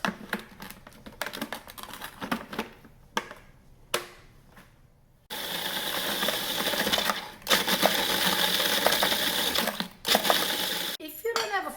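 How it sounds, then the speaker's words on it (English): A food processor crushing graham crackers with sugar: sharp rattling bursts early, then a loud continuous whirring grind broken by brief pauses, close up with no talk. "I'm going to crush the graham crackers, okay?"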